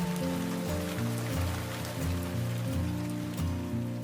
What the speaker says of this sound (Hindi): बारिश रुकने का नाम ही नहीं ले रही थी।